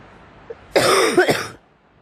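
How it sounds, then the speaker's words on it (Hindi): A woman gives one harsh, close cough of two or three rough bursts, loud against a quiet room, with the room falling silent afterward. "आपको खांसी हो रही है"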